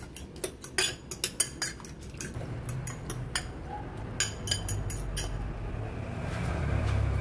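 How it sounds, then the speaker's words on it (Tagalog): Eggs with salt and spring onion beaten in a bowl, rapid rhythmic clinks of a utensil against the bowl in quick bursts, close and crisp, fading into a low rumble at the end. "So, maglagay lang tayo ng konting asin sa ating itlog at isama na natin dito yung dahon ng sibuyas. So, haluin lang natin."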